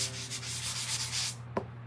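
Close, continuous abrasive sanding on a handmade door tag: a steady rasping hiss that stops abruptly, followed by a single sharp tap.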